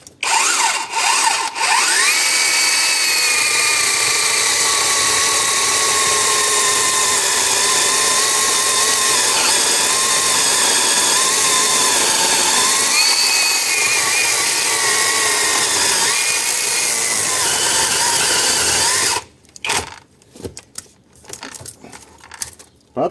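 Cordless two-handed Heimerdnger LB192 chainsaw with a 12-inch bar cutting a knotty log, a loud continuous whining cut lasting about nineteen seconds with slight pitch dips under load, then stopping abruptly into scattered clatter and short bursts.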